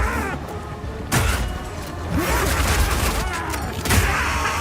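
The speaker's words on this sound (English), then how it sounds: "Piercing shot!" Piercing Shot skill firing in Path of Exile 2, a Mercenary's ranged attack heard as a few sharp, booming impacts and thuds over a dense, noisy game soundscape.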